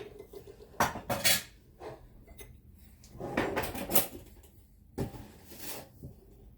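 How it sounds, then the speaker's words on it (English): Kitchenware clatters as a 1/4 cup measuring cup is grabbed, several close metallic clinks and rattles in short bursts with quiet gaps and no talking. "I need to grab a 1/4 cup measuring cup"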